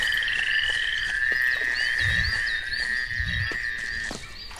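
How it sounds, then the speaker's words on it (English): Frog croaking in the hunting video game Duck Dynasty, two low deep croaks at a moderate distance over a steady high insect-like drone and faint ambient background. "Better get that damn frog."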